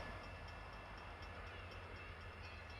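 A local freight train arrives at a depot on the Norfolk Southern Greenville District, a faint, distant, steady rumble with soft rhythmic clicks and no distinct horn.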